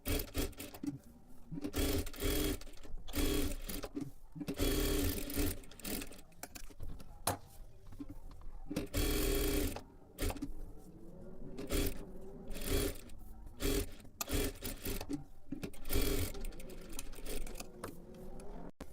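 A sewing machine stitches lining onto the back of a blouse, running in repeated bursts of steady whirring with short pauses between passes, close and fairly loud throughout.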